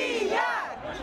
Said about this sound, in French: l'emblème est détruit au son des chants patriotiques russes